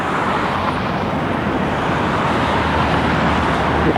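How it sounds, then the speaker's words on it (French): Heavy road traffic roars steadily along a Moscow boulevard near a river bridge, a dense, continuous wash of passing vehicles heard from close by with no talking. "Et ici sur le côté, le boulevard de circulation"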